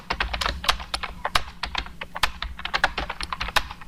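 Rapid typing on a computer keyboard while writing a shop's cash memo in MS Word, with steady clustered keystrokes and occasional louder taps, close and uninterrupted, with no talking.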